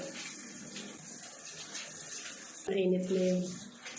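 Shower water runs steadily in a bathroom, a continuous hiss of spray, joined near the end by a louder, fuller rush and a brief voice.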